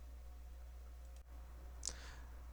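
A single faint mouse click sounds as a download button is pressed in office billing software, a brief sharp tick against quiet room hum.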